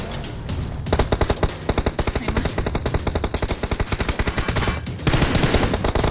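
Rapid automatic gunfire in the video game PUBG, loud sustained bursts of closely spaced shots with brief gaps, fired close by with no talk over them.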